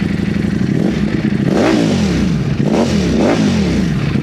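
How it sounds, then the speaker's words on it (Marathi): A Ducati Panigale V4 motorcycle engine revs loudly at close range, blipping up and dropping back in about three sharp throttle sweeps over a steady rumbling idle. "आता मी तुम्हाला डुकाटी पॅनिकाली V4 ही गाडी दाखवतोय"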